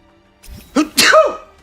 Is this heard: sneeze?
yes